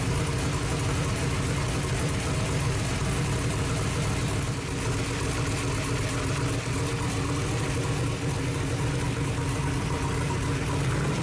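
A freshly built 18-degree small-block Chevy V8 runs at its first fire-up, a loud, steady, rumbling idle that holds continuously with little change in pace.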